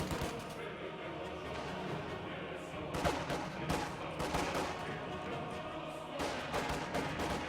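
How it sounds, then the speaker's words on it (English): Shots crack out through a Company of Heroes battle as a sniper fires at approaching riflemen, scattered sharp reports and bursts over a steady rumble of combat. A commentator talks throughout. "This sniper trying to get to safety across the road, takes another shot at riflemen closing into short range"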